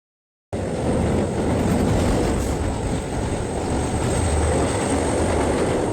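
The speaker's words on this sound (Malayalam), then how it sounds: "ട്രെയിൻ ഇപ്പോൾ പാമ്പൻ സ്റ്റേഷനിൽ പ്രവേശിച്ചിരിക്കുന്നു" A train rumbles steadily along the rails into Pamban station, a loud continuous low roar with faint rattling, starting abruptly after a brief silence and holding throughout.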